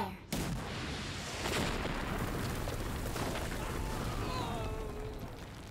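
Weapons opening fire in a Seven Knights 2 mobile game cutscene: a sudden loud blast gives way to a sustained roaring barrage of booming fire, dense and continuous, with faint tonal effects late.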